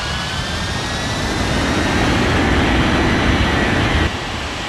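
A jet airliner's engines roar loud and steady in an air traffic control video game, a broad continuous rumble and whine that holds for several seconds with no talking.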